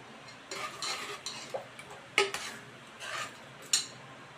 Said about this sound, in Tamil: தூக்கி அடுப்பில் வைக்க போகிறேன்